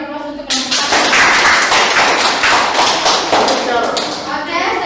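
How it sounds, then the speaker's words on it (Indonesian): A classroom group gives applause to a presenting group of students, a dense burst of many hands clapping that starts abruptly and continues steadily, close and loud. "Oke, beri aplaus untuk kelompok"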